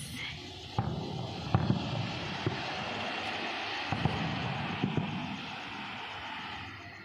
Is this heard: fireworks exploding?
yes